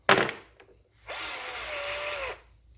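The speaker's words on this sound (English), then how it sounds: "I'm gonna drill pilot holes for these." A brief knock, then a power drill whirs steadily for about a second as it bores a pilot hole into a wall, close by, before spinning down.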